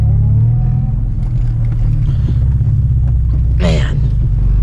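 An 8th-gen Honda Civic Si with a newly installed short shifter drives along with a loud, steady low engine and road rumble inside the cabin, plus a brief higher-pitched whine near the end. A voice talks over it.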